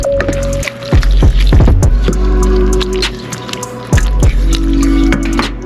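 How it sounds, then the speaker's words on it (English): Sloppy joe ground meat mixture with garlic powder is stirred in a pan, giving close, loud wet squishes and clacks in an irregular rhythm, with no talking. "start stirring that up"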